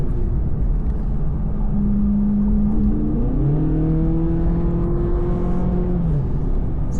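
A Chevrolet Corvette C8 Z06 engine pulls hard at about half throttle, a loud, steady drone whose pitch climbs through the gears with a shift in the middle, heard from inside the car.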